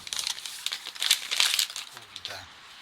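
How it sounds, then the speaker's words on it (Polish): Cardboard box holding a JVC GZ-HD3 camcorder being opened, with close crinkling and rustling of packaging in short bursts, a brief low voice murmur near the end. "otwieramy pudełko"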